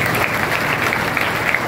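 Loud, steady audience applause at a ceremony honouring meritorious SSC students, many hands clapping densely and evenly without a break.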